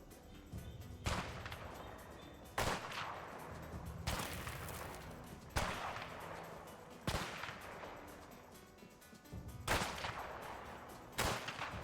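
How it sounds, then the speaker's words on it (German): Repeated gunshots ring out in the co-op prison-escape game A Way Out, about eight sharp, loud blasts spaced every second or so, each with a short crackling tail over a low ambient rumble. "wo schießt du denn hier?"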